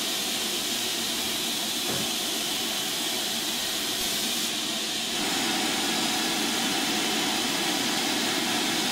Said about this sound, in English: There's that plane again.